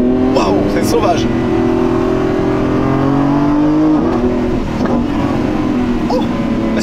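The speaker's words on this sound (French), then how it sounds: "Oh, ça pétarade en plus. Ah, le son il rappelle clairement celui de la Ventador." Lamborghini Revuelto V12 hybrid accelerating, its strong engine drone from the cabin broken by crackling exhaust pops and burbles at several points.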